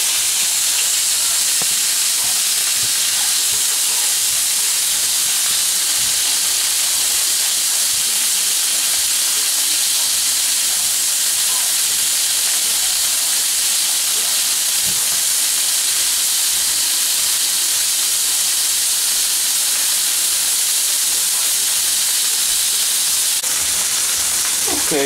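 A beef chuck roast sears in a hot pan, giving a loud, steady sizzle and hiss that runs unbroken throughout.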